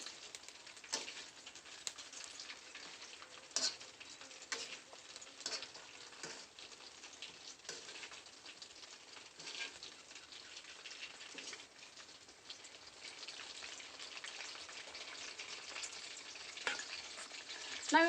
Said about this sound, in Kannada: ನಾವು ಇವನ್ನ ಚಲೋ ಅಂತಮ್ಗೆ ಫ್ರೈ ಮಾಡ್ಕೋಬೇಕು